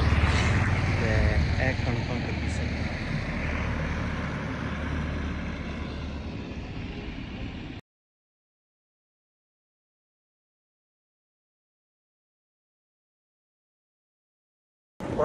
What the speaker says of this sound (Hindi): ट्रैक्टर जा रहा जी